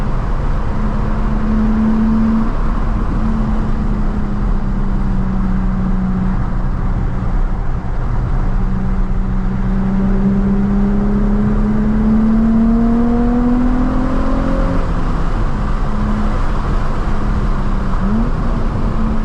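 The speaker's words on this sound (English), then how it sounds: "rev match is really easy in this car" Nissan 350Z engine revving through rev-matched downshifts, a steady droning whir with rising and falling pitch sweeps as the revs climb and drop, loud and continuous with no talking.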